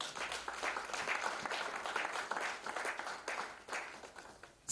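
A church congregation applauds together, a dense, steady burst of clapping that swells in waves and fills the hall, with no speech over it.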